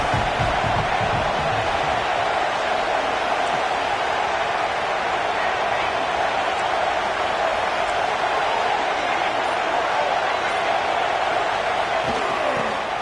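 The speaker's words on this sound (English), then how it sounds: "This crowd rising up, sensing that its defense needs some help." A stadium crowd roars in the college football video game College Football 26, producing a dense, continuous wash of cheering and crowd noise that stays steady and loud throughout.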